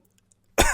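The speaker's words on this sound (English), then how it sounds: "as I cough into my microphone" A man coughs once, loud and close into a microphone, a sharp burst after a short quiet lead-in.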